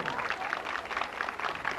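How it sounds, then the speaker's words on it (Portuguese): Crowd applause at a 1996 rodeo festival cavalcade, a brief, dense patter of many hands clapping outdoors at moderate distance, steady throughout. "Vamos aplaudir,"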